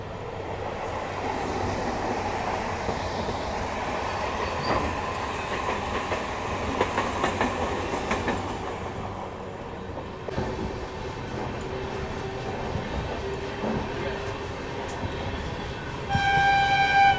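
Pinakini SF Express pulling out of Chennai Central, a steady rolling rumble with wheel clatter on rail joints throughout, a sharp change near the middle, and higher tonal whistles or horn-like tones near the end.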